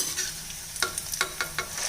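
Rice flour vadam fryums sizzle and crackle in hot oil on a medium flame, with a steady frying hiss broken by several sharp bursts of crackling.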